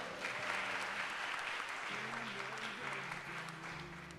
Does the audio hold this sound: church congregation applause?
yes